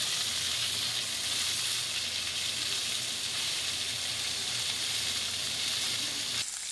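Food frying in a properly preheated pan gives off a loud, steady, bright sizzle that hisses evenly throughout and cuts off abruptly near the end.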